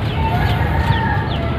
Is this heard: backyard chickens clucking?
yes